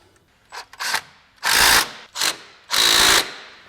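A ratchet tightens the factory bolt holding a rear brake line spacer to its bracket while lifting a 2017-2025 Honda Ridgeline, heard as five bursts of rapid clicking, two short and three longer, close and loud with no talk.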